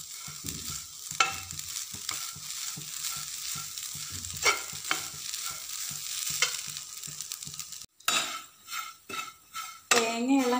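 Grated coconut being stirred and roasted with spices in a pan for kadala masala curry: a steady dry sizzle with repeated scraping of a utensil against the pan, then a few louder clinks and scrapes near the end.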